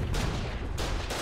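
Dense, continuous rumbling gunfire and explosions with sharp bursts, loud and close, in the video game Foxhole, filling the whole moment without speech.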